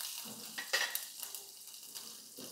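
Green chilies crackle and sizzle in hot oil with mustard seeds while a tamarind kadhi tempering is cooked, a steady close frying hiss broken by sharp spattering pops, with no talking.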